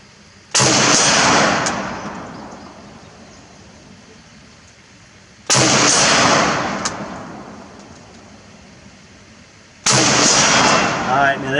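An IMI X95 Tavor rifle in 5.56x45mm fires three sharp, very loud shots spaced a few seconds apart outdoors, each crack trailing off in a long fading echo.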